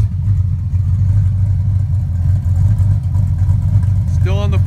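A Jeep SRT8 with a naturally aspirated build and no hood fitted runs with a steady, deep low rumble throughout, loud and close, and a brief voice comes in near the end.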